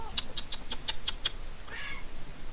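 A cat gives one short, soft meow right after a person's rapid string of hissing psst calls.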